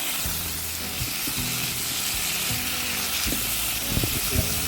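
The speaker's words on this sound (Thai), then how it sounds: "เราก็จะนำมะเขือที่เราแช่น้ำไว้ลงไปผัดเลยนะคะ ผัดให้เข้ากันเลยค่ะ" Soaked Thai eggplant stir-fried with pork over high heat, giving a dense, loud, continuous sizzle with regular scraping stir strokes close up.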